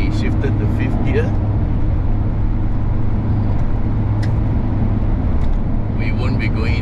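Peugeot Landtrek 4x4 pickup with a 150 hp manual engine cruising in fifth gear on a mountain climb: a steady mid-level engine hum with road noise under a driver's ongoing talk.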